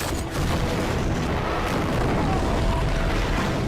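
A canister blows up on a bridge in a TV drama scene, making a sustained, loud, full-bodied roar and rumble that fills the whole few seconds without a break.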